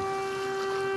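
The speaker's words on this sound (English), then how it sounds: "Siren." A warning siren in the DayZ video game holds one steady, unwavering tone with bright harmonics for about a second, alone with no voices.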